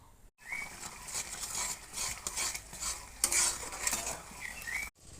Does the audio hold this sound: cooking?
yes